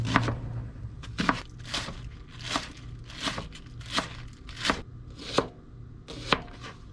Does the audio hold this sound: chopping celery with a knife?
yes